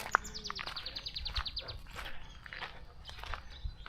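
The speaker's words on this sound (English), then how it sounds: "See plenty of birds here." Birds chirp and twitter in a wealthy Kenyan neighborhood, a run of quick high descending chirps followed by scattered calls at moderate distance, with soft footsteps and ambient outdoor noise beneath.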